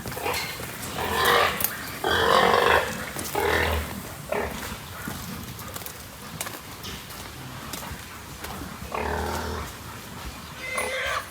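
Pigs being let out of a pen on a farm: grunts and squeals come in bursts amid hoof scuffles and shuffling, loud up close, then easing off before a final flurry.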